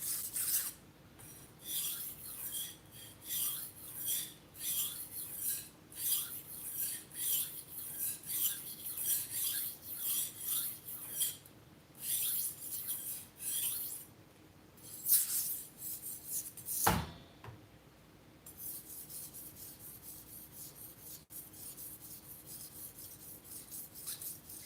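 A knife is stroked on a 4000 grit whetstone, giving a steady rhythm of soft, close rasping scrapes that repeat for about twenty seconds and then settle into a quieter hiss.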